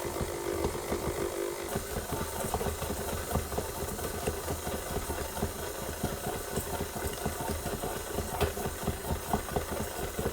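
A stand mixer fitted with the paddle attachment runs slowly while beating butter and sugar into buttercream. Its motor hums steadily and close by, with a rapid rhythmic chugging throughout and no voices.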